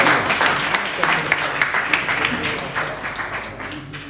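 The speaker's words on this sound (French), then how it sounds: "Donc, on les applaudit plus fort." Audience applause at an award ceremony in Bissau, steady clapping from a crowd that carries on throughout at moderate loudness.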